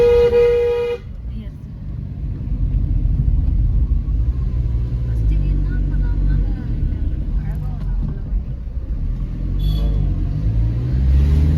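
A car's engine pulls in first gear up a hill road near Tirupati, a low steady rumble throughout, with a horn toot at the start and people talking over it.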